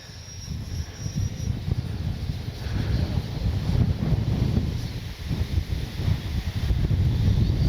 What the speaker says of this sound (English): Yeah, it's so windy.